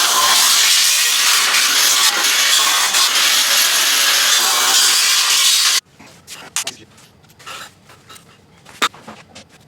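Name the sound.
cutting crossbars for boom sprayer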